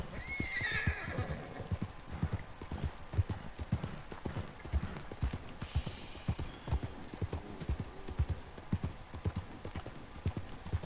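Horse in a video game, with steady rhythmic clip-clopping hooves throughout and a whinny near the start, fairly close and clear with no talk.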